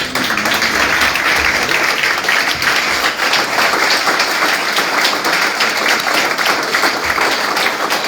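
A church congregation applauding steadily, a dense continuous wash of many hands clapping at even loudness throughout, with faint voices mixed in.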